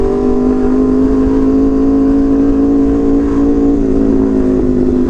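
A motorcycle with a very loud aftermarket exhaust rumbles and revs in traffic, a close, continuous throaty drone that swells and eases slightly with the throttle, no voices over it.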